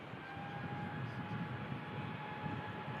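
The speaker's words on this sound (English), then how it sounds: "Go, KLM E2. Bound for Amsterdam Schiphol." KLM Embraer E2 jet bound for Amsterdam Schiphol at Manchester Airport, a steady distant engine roar with a faint whine, fairly quiet and continuous.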